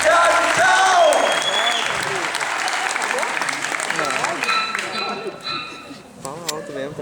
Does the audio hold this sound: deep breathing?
no